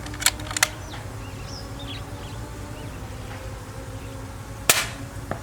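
A Daystate Red Wolf Safari airgun fires a slug during outdoor pest control, giving a sharp crack near the start and another a moment later, with a louder close report near the end over steady insect buzz and birdsong.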